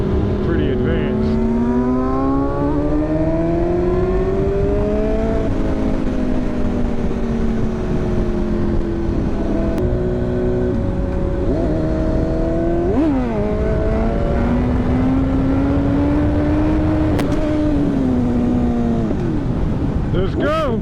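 A super sport motorcycle engine revs repeatedly, its pitch sweeping up and falling back in steady throttle blips over about twenty seconds, loud and close throughout.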